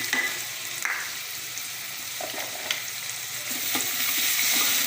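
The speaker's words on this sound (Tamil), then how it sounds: "வெங்காயம் வெங்காயம் நல்லா வதங்கணும் அதுக்கு கொஞ்சம் உப்பு" Chopped onions sizzle with salt in hot oil for tomato rice, with a steady close frying hiss and a few soft scraping stirs of a spoon in the pan.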